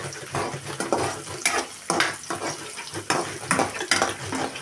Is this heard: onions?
yes